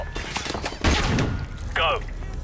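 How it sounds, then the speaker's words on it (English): In Call of Duty: Modern Warfare, a flashbang grenade goes off with a loud, sharp burst, and a rumbling crackle follows it through a tense stretch of gameplay sound. "Flashbang out."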